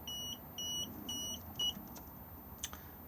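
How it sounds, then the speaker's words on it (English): A caravan control panel, not hitched to a tow vehicle, beeps high four times in a steady on-off rhythm, close by and fairly quiet, followed by a few faint clicks. "it's going to beep at us because we are not hitched up to a tow vehicle"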